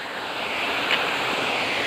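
Rain-swollen Bugga waterfalls rush over big rocks in a loud, steady, close roar of water with no pauses.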